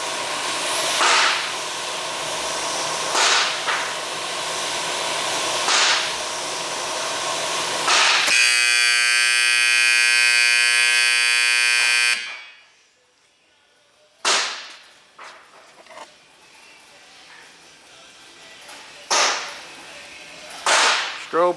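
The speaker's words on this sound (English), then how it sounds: "I'm going to simulate some alarms here now." A Washer Compactor WCP-350 sounds a steady, loud simulated alarm tone lasting several seconds, surrounded by sharp clicks and bangs, then drops to near silence before scattered knocks resume.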